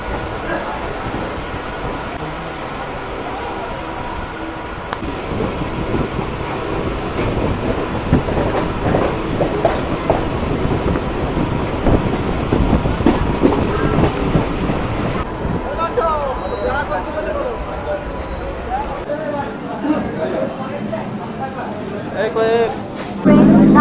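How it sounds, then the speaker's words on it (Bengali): A suburban local train on the Hasnabad–Sealdah line pulls out of Dum Dum Junction. It gives a continuous rumbling roll with rhythmic clatter of wheels over rail joints, heard close from on board, with wind buffeting and some voices in the background. "আমাদের ট্রেন কিন্তু দমদম জংশন ছেড়ে চলে যাচ্ছে"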